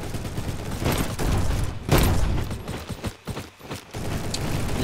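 Gunfire from a strong gun in the Roblox game Bad Business, bursts of rapid shots with mechanical clicks and reload-like rattles, loud and close, several clusters over a few seconds.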